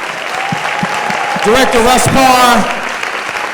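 An audience applauds for gospel singer Marvin Sapp at the end of a talk-show interview, the clapping running beneath an announcer's voice and swelling louder midway.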